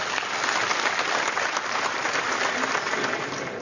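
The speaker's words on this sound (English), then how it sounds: "the delegates applauded that speech" Delegates at the SNP Conference 2007 applaud a speech on lowering the voting age to 16, producing a dense, steady wash of clapping from a large hall crowd that fills the whole stretch at an even level.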